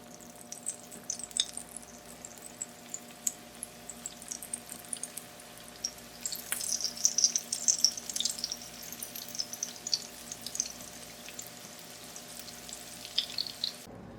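Chicken fajita spring rolls deep-fry in hot oil with a soft, continuous bubbling sizzle and scattered crackling pops, fairly quiet and with no one talking.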